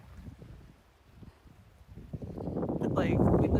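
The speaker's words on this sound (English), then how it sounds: "It's getting windy." Wind picking up in the mountains along a hiking trail, starting as a soft, low rumble and swelling into a stronger, steady gust that grows louder toward the end.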